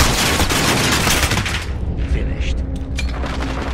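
Enemy sentry gun in a first-person shooter video game, firing rapid bursts of loud automatic gunfire that dominate the first half, then thin to scattered shots and distant booms.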